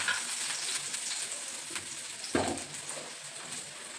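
Finely chopped onion fries in very hot oil, giving a continuous soft sizzle and crackle with a sharper burst of spatter partway through, fairly quiet and close.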